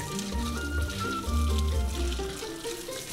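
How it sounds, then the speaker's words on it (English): Boiling water from a whole kettle pours into a sink plughole packed with soda crystals, a steady gushing, gurgling splash that runs close and continuous throughout. "then pour a whole kettle of boiling water onto it"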